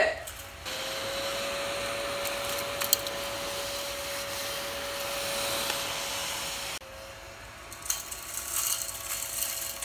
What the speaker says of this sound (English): it's like a HEPA-filtered crumb hoover for your work surfaces